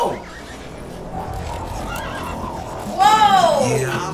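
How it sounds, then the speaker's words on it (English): A horse gives a loud, close whinny near the end of a music video passage, rising and falling over about a second above a steady musical background. "Ronnie came in flying on a horse"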